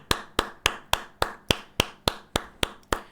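Eleven sharp hand claps in a steady, evenly spaced rhythm, close and crisp with no talk, given as applause during a streamer's reaction to a speech about wildfires.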